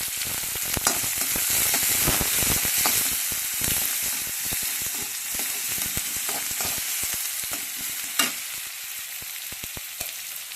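Onion, ginger-garlic paste, cumin and mustard seeds fry in hot oil for cauliflower palya, a steady close sizzle with sharp spitting crackles and occasional stirring scrapes throughout, no voices.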